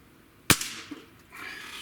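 A single sharp crack from a Diana 54 Airking Pro air rifle, a sudden loud shot followed by a brief tail and faint distant impact, then low background hiss.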